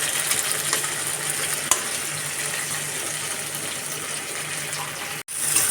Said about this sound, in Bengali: এটাকে আরো ভুনতে থাকবো।